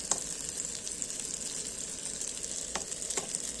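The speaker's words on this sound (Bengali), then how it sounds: "গাইজ দেখো পাস্তা অলরেডি অনেকটা ভাজা হয়ে গেছে" Pasta frying in a pan gives a steady close sizzle throughout, with a few sharp clicks and stirring scrapes and no talking.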